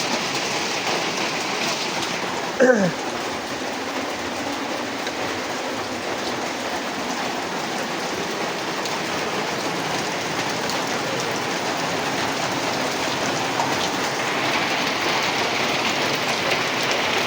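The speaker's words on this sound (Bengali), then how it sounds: "বৃষ্টি নামছে জোরে" Heavy rain falls in an unbroken, loud roar throughout, with a single brief clunk early on.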